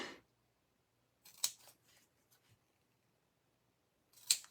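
Scissors cut straight through card stock in a few brief, crisp snips, quiet and close, separated by pauses and with no talk.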